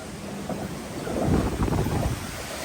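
Strong wind roars across an open microphone outdoors, a steady broadband rush that swells in the middle and then holds, with no voices.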